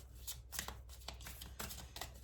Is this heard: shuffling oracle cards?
yes